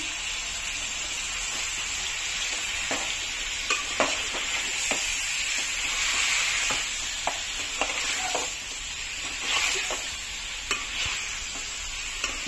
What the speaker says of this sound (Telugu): ఇప్పుడు దీన్ని హై ఫ్లేమ్లో కొద్దిసేపు ఫ్రై ఫ్రై చేసుకుందాం చికెన్ని